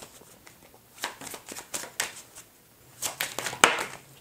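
Tarot cards are shuffled close up in a run of quick, papery riffling bursts, with a brief pause midway and a sharper snap near the end.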